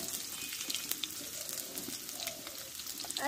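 Cut potatoes sizzle as they go into hot oil with whole cumin seeds, a soft steady crackling and hiss at moderate distance, with faint stirring clinks and no talk.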